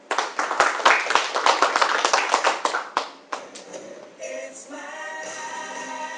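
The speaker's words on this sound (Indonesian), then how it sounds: "Tepuk tangan sekali lagi buat Ibu Dewi." A small audience claps after a product presentation. Scattered, uneven hand claps build briefly and then taper off, followed by a quieter tail of room sound.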